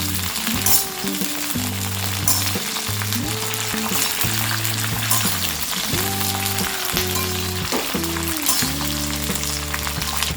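Ivy gourd sabzi sizzles and crackles in a pan as it is stirred, a continuous bright frying hiss with a steady melodic tonal backing underneath and no speech.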